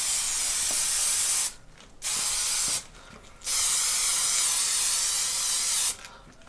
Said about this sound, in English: I need to spray the switch as well. You see. Spray the bulb. I'll just spray the bulb.